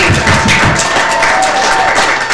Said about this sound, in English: Everyone, you all give yourselves a round of applause.